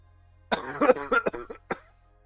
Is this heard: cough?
yes